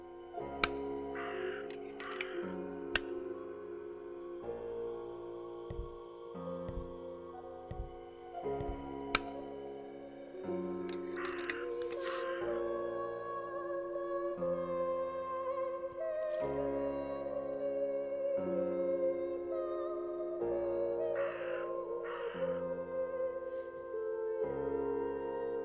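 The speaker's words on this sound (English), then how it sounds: "I love how this crow is making so much noise." A crow caws repeatedly in the game Martha is Dead, loud, harsh calls recurring every few seconds over a steady game music drone.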